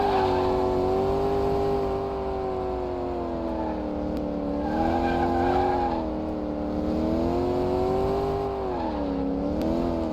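Restored, top-heavy Chevrolet Astro van with a torque-boosted engine driving on a race track. Its motor drones steadily and loudly, pitch rising and falling with the throttle, and no one speaks.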